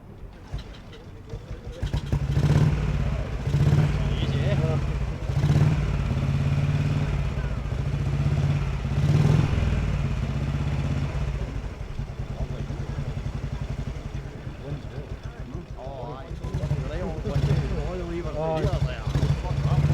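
A classic 350cc Yamaha motorcycle engine idles with a low, uneven putter at an outdoor motorcycle show, while people talk nearby over the steady rumble.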